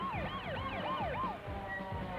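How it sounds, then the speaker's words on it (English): An ambulance siren wails in rapid rising and falling sweeps as the vehicle rushes injured people to a nearby hospital, heard faint and distant with no voices. "soon an ambulance speeds the injured to a nearby hospital"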